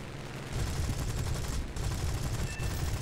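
Aircraft cannons firing in the War Thunder video game: a sustained, dense burst of rapid gunfire hammering for most of the stretch, with a brief dip near the middle before the shooting resumes.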